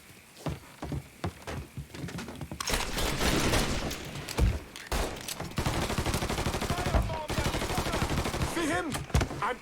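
Gunfire in the crime shooter Mafia III: scattered single shots at first, then a heavy, sustained exchange of rapid automatic fire, close and loud throughout.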